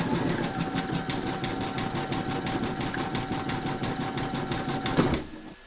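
An embroidery machine satin stitches an appliqué hat, a fast steady needle rhythm running loud and close for about five seconds before stopping abruptly.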